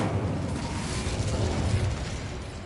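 A rushing, roaring burst of flame from the Incendio fire spell in Hogwarts Legacy, dense and steady for a few seconds without a break.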